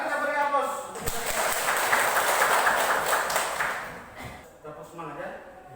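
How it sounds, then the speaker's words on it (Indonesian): Applause from an audience of teachers at a training session, a dense steady wash of clapping that swells for several seconds and then tapers off, with voices mixed in near the end. "Mari kita beri aplaus"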